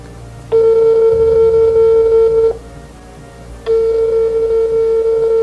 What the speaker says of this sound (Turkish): Evet gözünüzün önünde arkadaşlar görüntülü arıyorum